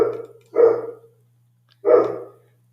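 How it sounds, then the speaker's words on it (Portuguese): A female dog barks indoors, two short loud barks separated by a pause, close by over a faint steady hum. "A minha cachorra latindo"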